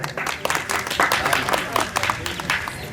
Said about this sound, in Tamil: சரியா இருந்தா ஒரு கைத்தட்டு கொடுங்க.